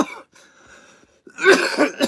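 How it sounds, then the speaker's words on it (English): A close, raspy cough and throat clearing, followed by a couple of heavier hacking coughs near the end, loud and alone. "start getting my coughing spell going here"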